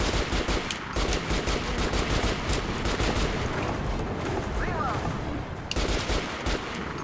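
Rapid automatic gunfire from the video game Metro: Last Light, dense bursts of shots running almost continuously and loud throughout, with a few short gaps.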